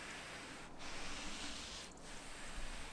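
A cloth or applicator rubs Osmo hard wax oil top coat across a wooden drawer outdoors, giving a soft, continuous close swishing with two faint sharper strokes.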